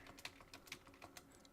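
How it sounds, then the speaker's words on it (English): Fast typing on a computer keyboard, a quiet run of light, uneven key clicks tapped close by with no talking. "I'm just kind of typing a little too fast for my own fingers."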